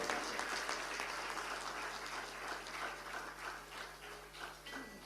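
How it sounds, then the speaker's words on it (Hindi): Audience applause at a Ramkatha religious gathering in Ayodhya, a steady wash of many hands clapping at moderate distance, continuous for the full stretch with slight swells and no talk over it. "तालियां आपकी धीमी है,"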